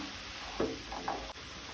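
A spoon stirs salted Goan taro leaf bhaji in a pan: soft scraping strokes over a low, steady sizzle, quiet and close, with no talking.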